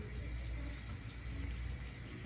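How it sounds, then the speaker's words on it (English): Water runs steadily into a pot for a Jamaican curry chicken foot stew, a continuous low rushing fill that holds at an even level throughout with no one talking. "So guys, I'm adding water."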